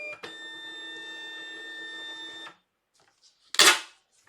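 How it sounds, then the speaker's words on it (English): A label printer runs steadily for about two seconds while printing a shipping label, with a sustained mechanical whine, then goes quiet and ends with a short, sharp tearing or clunk as the label comes free. "That's the label that's just come out of the printer."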